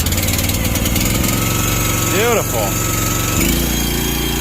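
A John Deere 4440 tractor diesel engine cranks and fires on the key with a little choke, roaring steadily and loud up close, dipping briefly before settling into a strong run, with someone speaking over it.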